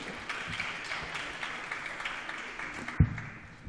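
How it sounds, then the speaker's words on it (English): Steady applause from an audience, a broad wash of clapping that carries on throughout, with a sharp thump near the end. "your applause for Hollie Lubbock."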